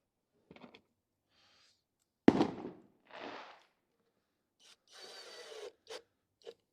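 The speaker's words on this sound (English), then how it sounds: "That wasn't the engine, that was the fireworks." Fireworks going off outside a car repair workshop during a crash-damaged Mercedes A-Class AMG rebuild: a sharp single bang followed by scattered crackles and bursts, faint and intermittent, with quiet gaps between.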